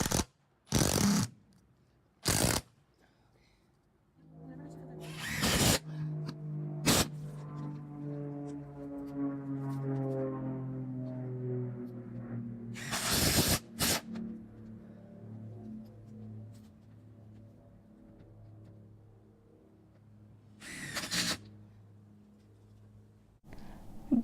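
A power drill drives screws into an awning bracket on a Coleman pop-up camper, with short sharp bursts early and late and a long whirring run with a shifting, descending drone in the middle.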